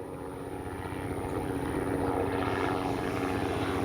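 A FLEX RV-8 60E G2 radio-controlled model airplane performs a tail slide, its propeller drone steady and fairly close, swelling slightly louder through the manoeuvre with no talk.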